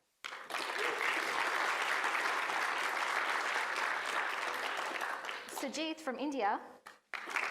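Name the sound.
audience applause welcoming the judges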